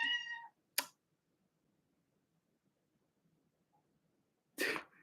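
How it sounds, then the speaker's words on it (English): A house cat gives one short, clear meow up close in a quiet room, followed by a sharp burst soon after and another a few seconds later. "My cat."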